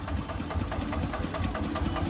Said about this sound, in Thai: รถไถนี่คุ้มมากเลยอ่ะคันเดียวอ่ะ